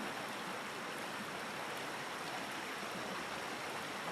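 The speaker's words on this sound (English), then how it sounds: "the continued gentle murmuring of the stream" A stream murmurs with a steady, unbroken rush of flowing water, even in loudness throughout and heard alone with no voices.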